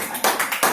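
Short burst of audience clapping at a closing ceremony, with a few loud overlapping surges of claps in under a second and no talk.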